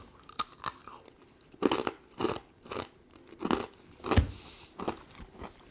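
Crunchy, oven-baked Estonian bread snack made from thin slices of long bread being bitten and chewed up close, a series of sharp crisp crunches arriving in steady bursts with no talking.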